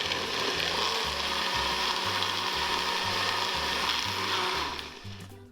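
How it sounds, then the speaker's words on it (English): A steady, loud motorized whir of a food processor pureeing vegetables continuously, with a low grinding pulse repeating roughly every half second, easing off at the end. "transfer everything to a juicer or a food processor. Now we can puree everything."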